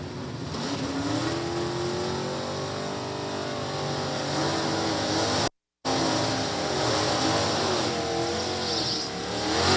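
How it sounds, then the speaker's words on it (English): A 360 cubic inch, 4-speed Dodge Dakota drag race car does a burnout at a drag strip, with a loud, sustained engine roar and tire noise running almost without a break. "Well, that was a much better burnout for Dan."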